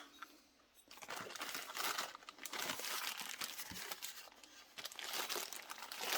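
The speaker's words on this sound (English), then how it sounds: "Some folks don't like the crinkling of the plastic." Plastic packaging crinkling close up, a loud continuous crackling and rustling that starts after a brief quiet moment and keeps going in uneven bursts.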